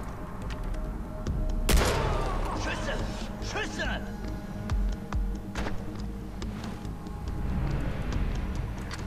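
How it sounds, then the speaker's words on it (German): Gunfire in the Far Cry 4 video game, set in a snowy area: a sharp loud shot burst stands out early, followed by scattered fainter cracks and thumps over a steady background rumble, with a voice speaking over it. "Schüsse!"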